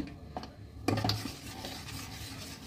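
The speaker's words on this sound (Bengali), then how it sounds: "চেপে চেপে আমি এটাকে ভালোভাবে ফুটিয়ে নেব। দেখুন, তালটা ফুটতে লেগেছে।" Palm fruit pulp boiling in a pan while being stirred and pressed down, with soft scraping, a sharp clink of utensil against the pan, and a faint bubbling simmer underneath.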